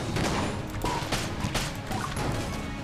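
Gunfire in the video game Enter the Gungeon while shooting snipers, a dense stream of quick sharp shot and impact sounds over game music, moderately loud with no talking.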